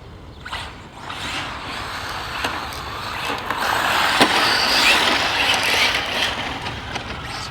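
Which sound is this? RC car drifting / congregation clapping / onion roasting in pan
RC car drifting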